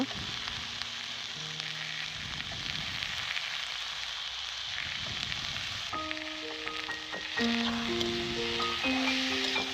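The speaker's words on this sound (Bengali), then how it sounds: "মটরশুঁটিগুলো দিয়ে আমি একটু ভালো করে কষিয়ে নেব" Green peas sautéing with spices in a hot pan give a steady close sizzle and crackle, with occasional scrapes of a spoon stirring through them.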